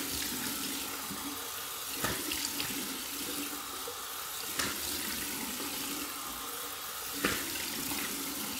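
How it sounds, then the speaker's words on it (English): Cold tap water running steadily into a sink for a rinse during a shave, a continuous splashing wash with a few brief louder bursts, no talking. "Now for the cold water rinse."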